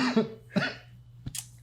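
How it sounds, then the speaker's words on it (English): A person coughs a few times in quick succession, close and fairly loud, short harsh bursts followed by a faint breathy sound. "So I still have the coughs."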